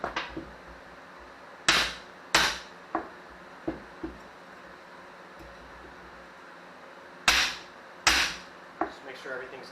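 A hammer taps leaf spring bushings into place on a 1998 Ram truck: sharp metallic strikes in irregular clusters, some hard and some lighter, close by in a quiet garage.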